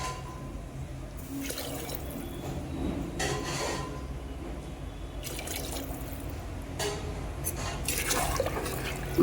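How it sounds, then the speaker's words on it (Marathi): Water poured from a glass into a cooking pot in a home kitchen, a close continuous splashing and trickle that swells in several bursts over the whole stretch. "माझा अर्धा ग्लासच भरतं आहे पाणी."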